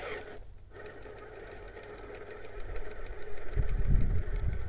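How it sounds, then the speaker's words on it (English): An off-road vehicle's front left tire chunks and grinds against rock while climbing, rhythmic knocking over a running engine that swells louder toward the end. "Hear that front left chunking away at that rock."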